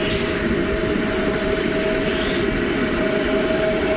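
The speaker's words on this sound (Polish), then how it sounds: "ED160014 jako Intercity Kochanowski do Lublina" An Intercity electric multiple unit, ED160014, runs through Łowicz station with a loud, steady rumble and a constant tonal motor hum, heard close and without any voices.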